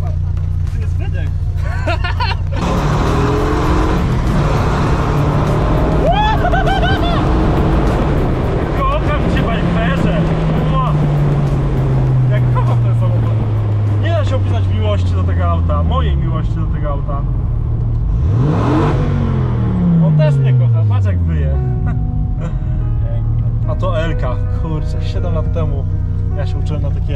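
A Dodge Viper's loud exhaust roars and revs repeatedly, pitch sweeping up and down through several gear changes as the car accelerates, with passengers talking over it.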